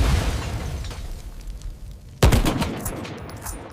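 Video game combat in a dark, collapsing station on a hostile planet: sustained bursts of rapid gunfire, then a loud, close explosive boom followed by more rattling shots and crashing debris.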